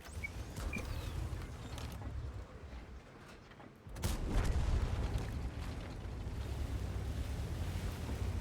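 A shell striking a road wheel of a Kpz. Erich Konzept I tank in a tank battle video game. A dull, booming impact cuts through a steady low rumble of engine and battlefield noise.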